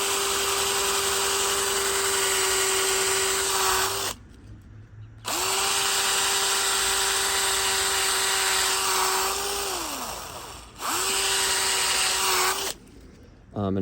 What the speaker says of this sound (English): go ahead and drill my pilot hole